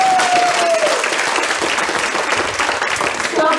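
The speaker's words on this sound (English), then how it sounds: "So special round of applause for him." Crowd applause at an Eau Claire Cavaliers baseball game, a steady dense wash of clapping across the whole stretch with a faint tone and some voices mixed in.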